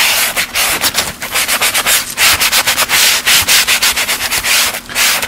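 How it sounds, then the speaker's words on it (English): Sanding painted oak across the grain, a close, loud, continuous scratchy rasp made of rapid, rhythmic back-and-forth strokes that pulse evenly throughout. "We'll do that even in the sanding of our paint"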